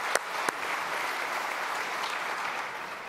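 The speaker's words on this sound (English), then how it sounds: "Let's give them a round of applause" Keynote audience at a tech conference applauding the engineering teams, a broad, even wash of clapping with a couple of sharp louder claps near the start, heard from within the hall.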